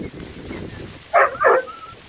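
Two quick, sharp dog barks ring out close together after a moment of muffled background noise.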